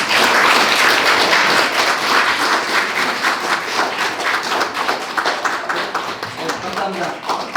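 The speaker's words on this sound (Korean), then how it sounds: "뜨거운 박수로 환영해 주십시오." Audience applause at a healing concert in a hall greets a speaker being introduced, a dense, loud, steady clapping that carries on throughout and slowly eases off toward the end.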